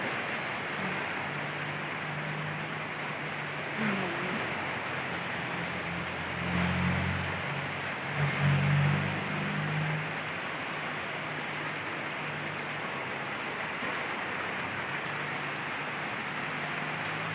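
Heavy rain pours down without a break, a dense, even roar that holds for the whole stretch, with a few low rumbles from something passing partway through.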